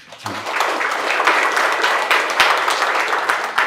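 Audience clapping for a yoga therapy teacher at a low back pain session, a steady round of applause from a room of people rising quickly and holding for several seconds, dense and fairly close.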